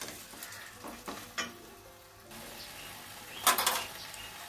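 Hilsa fish head fries in oil in a pan, a faint steady sizzle with occasional scraping stirs and light clinks of utensil against the pot, close and quiet.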